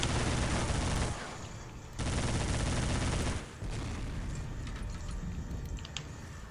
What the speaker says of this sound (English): Heavy machine gun and a sniper.